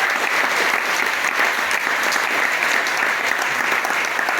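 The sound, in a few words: church congregation applauding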